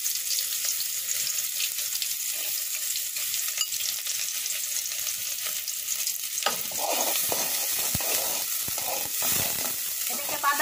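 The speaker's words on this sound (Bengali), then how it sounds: "বাদামি করে একটু ভেজে নেব।" Chopped onions fry in mustard oil in a pan with a continuous close sizzle, joined partway through by scraping and clanking from stirring with a utensil.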